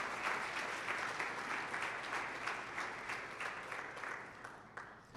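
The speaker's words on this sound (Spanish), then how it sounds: "Dale un fuerte aplauso al Señor." Sustained applause from a church congregation fills the space, a dense wash of many hands clapping steadily at moderate volume with no voices on top.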